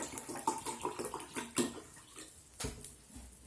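Liquid is poured into a measuring cup for a fractions lesson, a close, continuous splashing and trickling with small surges and a few brief clinks, fading toward the end.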